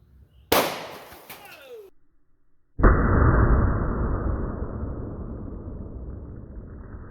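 .45 ACP Speer Gold Dot Short Barrel round fired outdoors: a sharp crack early on, then a second loud burst that trails into a long decaying rush, close and loud.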